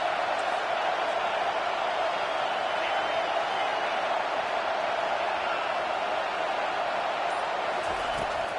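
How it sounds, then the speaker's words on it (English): Dense, steady roar of a football stadium crowd in Florida, a continuous broadband wash of many voices with no breaks, moderately loud and heard from a distance throughout. "this crowd trying to help keep them there"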